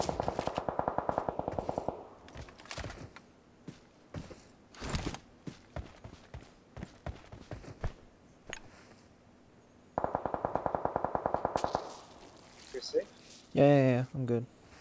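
Automatic gunfire in a battle royale shooter comes in rapid bursts of close shots, with single cracks and footsteps in between, all over a low game ambience.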